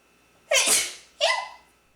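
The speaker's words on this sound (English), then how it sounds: "So, first we gotta sneeze." Two sneezes in a row, loud and close, the first longer and the second following after a short pause, with no talking.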